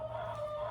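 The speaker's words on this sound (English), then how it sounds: "There's chickens right next to me." Chickens cluck and murmur close by, a steady low fowl chatter with a faint tonal hum underneath.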